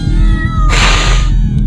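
A cat meows loudly in a house full of many cats, a drawn-out yowl standing out over a low rhythmic background hum, heard alone without voices.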